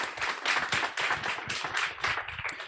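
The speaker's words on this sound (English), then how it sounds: "now we can give them a round of applause" Graduation audience applauds in a lively, uneven burst of clapping, individual claps rising and falling in rhythmic pulses, fairly close and loud with no talk.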